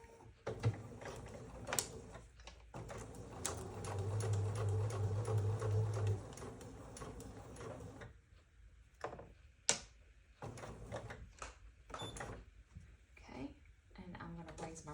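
A sewing machine stitches a quilt block in short mechanical runs with a steady whirring hum, broken by pauses, thread handling and a voice speaking nearby.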